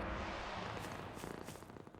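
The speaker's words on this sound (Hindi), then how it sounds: "फलाफल, बहुत शरारती बिल्ली हो।" A close, steady cat purr with a soft rhythmic rumble that becomes more pulsing toward the end, no voices.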